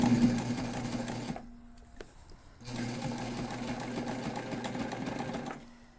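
Sewing machine back stitching a backpack seam, a close, rapid mechanical chatter in two bursts with a short quiet pause between them as the stitching direction reverses.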